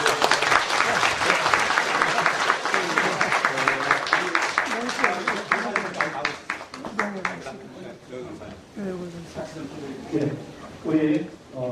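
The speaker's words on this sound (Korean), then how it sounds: "박수 한번 해주세요." Congregation applauding during a Baptist church's 50th-anniversary ordination service, sustained rhythmic clapping that fades after several seconds into speech.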